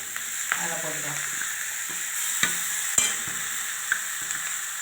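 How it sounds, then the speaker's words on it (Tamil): Onions and grated raw mango sauté in a pan for mango rice, a constant close sizzle broken by occasional spoon scrapes and clinks as the mixture is stirred. "நல்லா வதங்கட்டும் வெங்காயம்"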